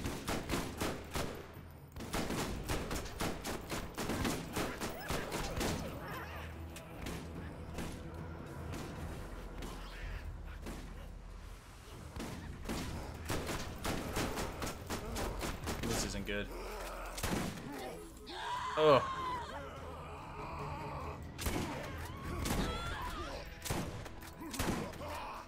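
Gunfire in Borderlands GOTY Enhanced comes as rapid automatic bursts and single heavy shots with thuds, loud and near, while a player talks over much of the shooting.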